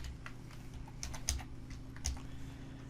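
Typing on a computer keyboard, a quiet close run of irregular key clicks with a couple of firmer taps, over a low steady hum.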